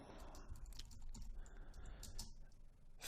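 Someone types on a computer keyboard while coding in IntelliJ, producing a quiet, irregular run of key clicks over about three seconds, with no talking.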